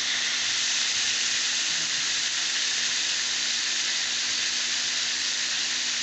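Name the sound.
fish frying in hot oil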